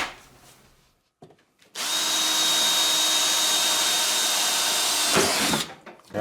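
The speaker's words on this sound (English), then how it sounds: "So I'm going to be drilling a hole through here" A power drill whines loudly and steadily while boring a hole through a sleeve hitch fitting for a riding mower, running at near-constant pitch for about three and a half seconds after brief handling noises, then stopping.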